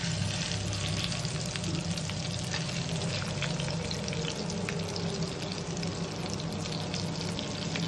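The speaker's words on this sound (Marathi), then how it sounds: "शिजतायत 2 माशाचे, पापलेट माशाचे तुकडे." Pieces of pomfret fish fry in a pan over medium heat, giving a steady, dense sizzle that holds evenly from start to finish with no talking.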